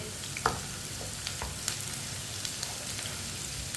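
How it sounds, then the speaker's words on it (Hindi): Finely chopped onion frying in oil with cumin over a medium flame, a soft continuous sizzle with a few light spoon scrapes as it is stirred, close and low in level. "प्याज को ऐसे ही चम्मच चलाते हुए पका लेंगे"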